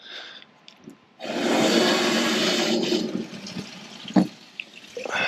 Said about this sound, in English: So now I gotta drain it out of the aqua hot.